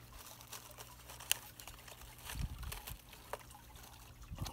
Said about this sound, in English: now that that's coming into the pond and trickling in like that and making bubbles